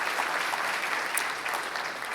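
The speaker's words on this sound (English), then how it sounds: "Give them a big round of applause" An audience applauding at a city State of the City event, dense steady clapping throughout, fairly distant and even.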